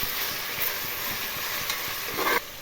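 Ginger-garlic paste and other ingredients for a prawn biryani being added and stirred in a pressure cooker pot, a steady close scraping and sizzling hiss with a brief clatter near the end.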